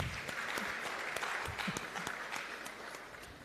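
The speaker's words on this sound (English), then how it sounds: "give them a round of applause for me" Audience at the official launch of a public-sector change management methodology claps steadily for a guest speaker, a dense, moderately distant patter of many hands that holds for a few seconds with no talk.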